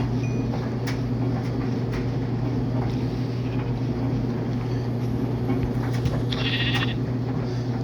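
Sheep bleating in the Minecraft video game, brief calls rising over a steady low droning hum and constant game ambience.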